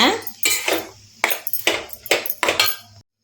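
A spoon stirring banana flower stir-fry with ground peanut and coconut in a metal pan, making several distinct ringing scrapes and clinks in an uneven rhythm, close and clear.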